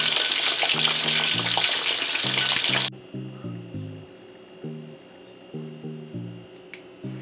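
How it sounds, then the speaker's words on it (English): Loud, dense sizzle of catfish fillets frying in hot oil for the first few seconds, then cutting off abruptly, leaving soft background music. "I'll get back to you when I've finished frying these pieces of catfish."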